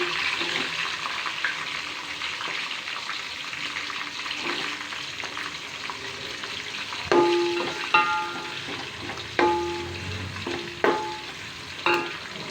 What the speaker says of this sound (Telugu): అయిన తర్వాత ఫ్రెండ్స్ ఉల్లిపాయలు వేస్తున్నాను